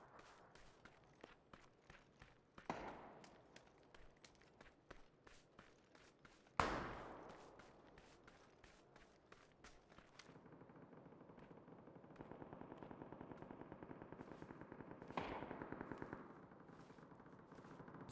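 Suppressed gunshots in a hardcore first-person survival video game, a few sharp muffled cracks spaced seconds apart over quick footstep-like ticks and a steady rumbling background.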